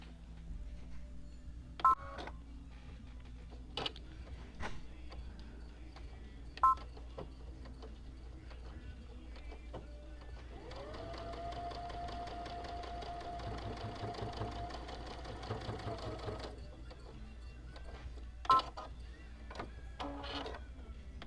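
Sewing machine stitching a fabric gadget stand, running in one steady sustained burst of about six seconds mid-clip, with short clicks and thumps of handling before and after.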